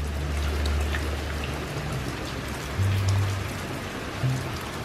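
Steady rain patters down in a dense, even hiss, with a few low rumbling swells of thunder underneath.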